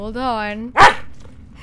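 A pet dog gives one sharp, close bark during a live gameplay stream, cutting in right after a person's brief talk, with quiet room noise around it.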